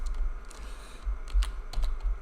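Typing on a computer keyboard, a string of quiet, irregular key clicks arriving in small bursts with brief gaps between them, close up and faint, with no voices.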